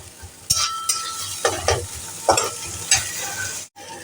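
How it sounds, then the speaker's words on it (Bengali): Pumpkin leaf bharta is stirred around a sizzling pan, the spatula scraping in several distinct strokes roughly every half second over a constant fry, with a short gap near the end. "ভর্তাটাকে কিন্তু বেশ খানিক্ষণ ধরে আমি নাড়াচাড়া করেছি এপাশ ওপাশ করে নাড়াচাড়া করেছি"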